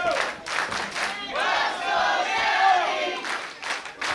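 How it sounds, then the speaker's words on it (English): A crowd at a live independent wrestling show cheers and chants loudly, rhythmic shouts rising into a sustained roar and then breaking back into chanting, echoing through the venue. "You hear that cheering for you?"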